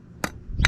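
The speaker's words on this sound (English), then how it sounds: "And just a couple whacks with a hammer" Two sharp metallic hammer whacks, about 0.4 s apart, the second heavier, setting a rubber boot clamp onto the front differential of a 2005 Kawasaki Brute Force 650 ATV.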